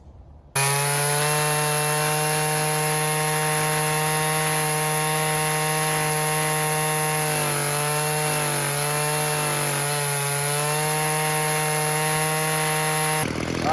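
Weed eater two-stroke engine screaming at high speed after its carburetor high and low screws were reset, a loud, sustained high-pitched whine with a brief wavering dip midway before cutting off.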